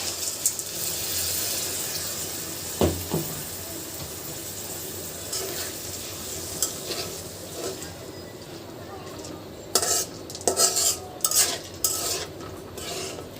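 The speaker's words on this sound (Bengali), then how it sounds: "ডালটা খুব সুন্দরভাবে রসুন আদা পেঁয়াজের সঙ্গে মাখিয়ে নিব" Dal stirred in a pot with garlic, ginger and onion gives soft scraping and sloshing, then a burst of spoon clatter against the pot near the end, with a voice talking at times.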